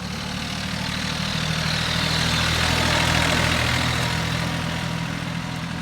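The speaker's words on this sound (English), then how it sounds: "we'll let this tractor drive by" A tractor engine rumbles nearby on a California farm, low and steady, swelling slightly as it passes and easing off again.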